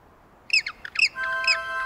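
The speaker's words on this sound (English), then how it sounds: "that noise was Mr. Penguin's family" A cartoon penguin family calls out in a children's animated show, a few quick high squawks and chirpy cries in short bursts, ending with a held tonal note.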